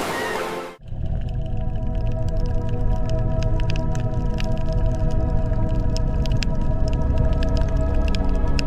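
Fin whale vocalizing in the Antarctic ocean, heard as a steady, loud, continuous drone of layered tones that sets in abruptly and holds unbroken to the end, with no voices.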